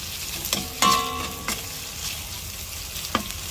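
Ingredients for sopas sautéing in a pan, a steady close sizzle with a few sharp clinks and scrapes of a utensil against the pan, no talking.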